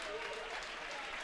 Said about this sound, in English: And you can hear the Rockets fans in front of us